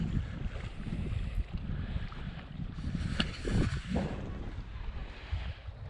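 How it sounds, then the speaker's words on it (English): Wind gusts steadily outdoors by a lake in the Boundary Waters wilderness, a continuous rough low rumble of buffeting air on the microphone, moderately loud and unbroken for the whole stretch with no voices. "The wind's still blowing, but not nearly as bad as it was."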